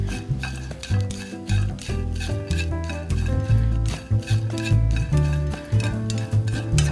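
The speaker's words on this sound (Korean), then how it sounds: "새우를 네, 새우 같이 볶으셔도 돼요. 네. 그래서 마른 팬에서 볶아 주세요." Shrimp stir-fried in a dry pan without oil, heard as a busy series of loud, close scraping and clattering strokes of a utensil against the pan in an irregular rhythm, with a faint sizzle underneath.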